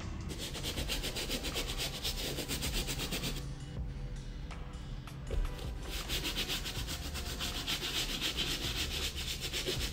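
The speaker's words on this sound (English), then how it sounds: "we do have to move on to this medium bristle brush, just so that way it'll actually scrub a little bit harder" Medium bristle brush scrubbing dirty leather sneaker uppers: continuous close, rapid rasping strokes with a brief lighter pause midway before vigorous scrubbing resumes.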